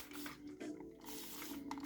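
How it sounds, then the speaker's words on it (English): A continuous spray bottle mists water onto type 4 curly hair, a steady, close hiss lasting the whole moment with faint mechanical clicks. "I'm gonna spray it with some more water just to make sure that it is wet enough for"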